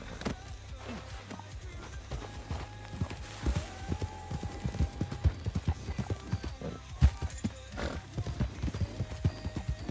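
Horse hooves clip-clop steadily in a roleplay video game, with quick, sharp repeated strikes at a trotting pace and an occasional whinny, fairly close.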